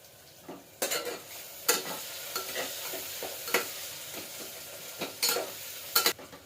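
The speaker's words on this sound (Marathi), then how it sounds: "कांदा चांगला फ्राय होऊन द्यायचा आहे." Onion frying in a pan with crushed garlic and two green chillies, a steady sizzle broken by repeated scraping stirs and a few sharp spoon-on-pan knocks, close and alone.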